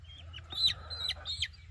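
Small young chickens on a family homestead clucking and peeping in short bursts while being moved, close and moderately loud over a low steady rumble.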